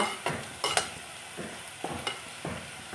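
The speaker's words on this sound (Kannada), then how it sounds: "ಈಗ ಇದನ್ನು ಕೂಡ ಇದರಲ್ಲಿ ಫ್ರೈ ಮಾಡಿ" Curry leaves and spices stir-fried in a pan for mutton gravy, a spatula scraping in quick, rhythmic strokes, about seven in three seconds, over a soft background sizzle.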